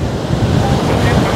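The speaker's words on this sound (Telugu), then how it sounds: "అలలు మాత్రం చాలా స్పీడ్గా వస్తున్నాయి" Fast waves rush onto Coco Beach in Dar es Salaam, Tanzania, a loud, continuous roar of surf heavily buffeted by wind noise on the microphone.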